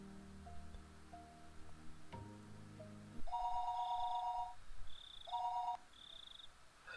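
A telephone ringing in the Higurashi video game: electronic ring bursts in two separate rounds, with higher trilling tones between them, following a low soft ambient passage. The ringing is moderately loud and clear, with no talk.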